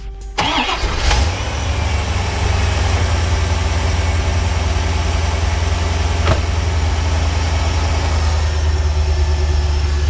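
A 1991 C4 Corvette engine cranks and catches about a second in, then settles into a steady, rumbling idle that holds close and loud for the rest of the clip, with no talking.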